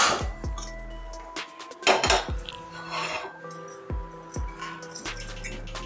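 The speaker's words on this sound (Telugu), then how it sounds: "ఇప్పుడు స్టవ్ ఆన్ చేసుకొని ప్యాన్ పెట్టుకుందాము." A metal pan set down on a stove, giving several sharp ringing clanks and clinks with metallic resonance, close and distinct against a quiet kitchen background.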